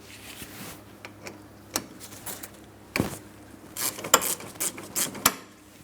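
A ratchet works a 13 mm caliper mounting bolt off the rear brakes of a 2003–2007 Cadillac CTS, giving scattered close metallic clicks and taps in short irregular bursts, with no talk.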